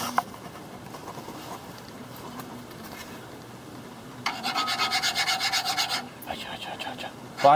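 Hand file on brake slide surfaces of a 1984 Chevy Caprice during a brake repair, faint scraping before a short, louder burst of rapid rasping strokes nearby.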